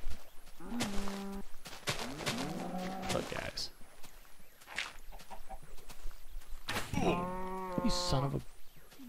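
A Minecraft cow moos several times in a swamp-side pumpkin patch, loud nearby lowing calls spaced across a few seconds, with someone talking between them.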